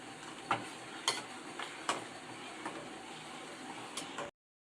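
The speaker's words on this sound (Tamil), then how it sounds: "அதை நல்லா கிளறி விடுங்க" A milk mixture for paal poori with turmeric stirred in a pan, soft scraping strokes at a slow, even rhythm over a quiet simmering hiss, close and fairly faint, no voices.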